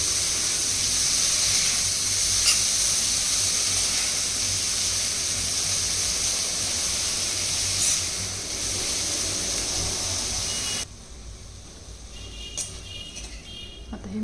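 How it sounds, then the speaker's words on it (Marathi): Moth beans (matki) sauté in a hot pan with a continuous sizzling hiss that runs steadily and close, then drops to a quieter crackle near the end. "आता आपण ही मटकी चांगली परतून घेणार आहोत।"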